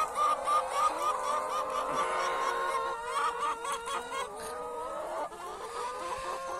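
Chickens cluck continuously in a backyard feeding and roaming area, a busy overlapping chorus of close, moderately loud calls with no talk.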